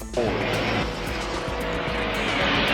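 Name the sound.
race car driving past on track at time attack event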